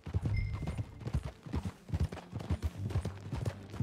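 Horse hooves clip-clop in an irregular, quick rhythm as a horse is ridden in Red Dead Redemption 2, close and fairly quiet, with faint saddle creaks between steps.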